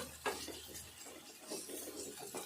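Chicken coated in raw chili powder is stirred in a pan with a spoon, giving soft scraping and clinking strokes over a faint sizzle, close and fairly quiet.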